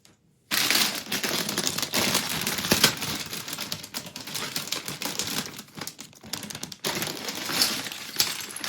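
Plastic bag of LEGO pieces from the Harry Potter Knight Bus set torn open close by, a dense, continuous crinkling and rustling with small plastic bricks rattling and clicking, no voices.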